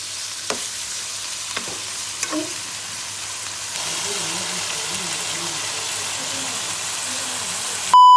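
Macaroni cooks in a pan with a close, steady sizzle. A few sharp stirring clicks come early, and a person talks over the frying in the second half.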